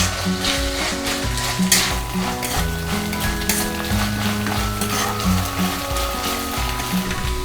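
Ginger-garlic paste and onion sauté in a pan for a Maharashtrian eggplant and potato curry, a soft continuous sizzle with occasional stirring scrapes, partly masked by melodic background music throughout.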